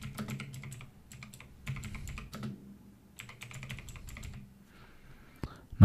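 Someone types on a computer keyboard into the Windows 11 search box, with quick bursts of close, crisp key clicks separated by short pauses and a faint click at the end.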